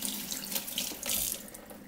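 Tap water runs steadily into a sink, a soft continuous splashing close by with no voices.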